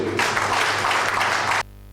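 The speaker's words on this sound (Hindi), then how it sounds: "तो दोस्तों, जोरदार तालियां बजाने के लिए।" Loud, dense applause from an audience at a health and wellness talk, a steady wash of many hands clapping together that cuts off abruptly near the end.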